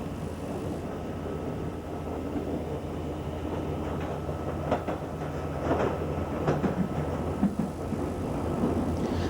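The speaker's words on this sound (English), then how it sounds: "Trains to Mill Hill travel over this attractive viaduct" London Underground train crossing a viaduct on the Mill Hill line, a continuous rumbling run with rhythmic clickety-clack wheel beats growing more pronounced midway, steady and fairly close, no voices.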